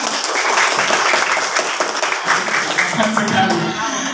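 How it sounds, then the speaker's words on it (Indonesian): An audience at a school outreach event by prosecutors claps loudly and continuously, with voices mixed into the applause. "Boleh tepuk tangan untuk Ibu Maria"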